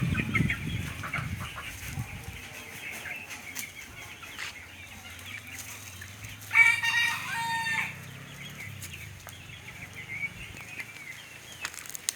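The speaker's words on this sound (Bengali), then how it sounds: "সবগুলো মুরগি আমার বাড়ির চারপাশে ঘোরাঘুরি করতেছে" A flock of chickens wanders around a rural house near a pond, clucking and calling at a moderate distance; a rooster crows once midway and wings flap briefly.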